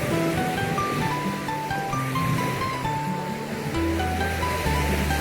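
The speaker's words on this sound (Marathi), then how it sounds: "त्यामुळे खूप उंचवर लाटा येतात" Ocean surf breaks on a Queensland beach in Nova Scotia, Canada, as a continuous wash of waves under sustained melodic tones that run through the whole stretch.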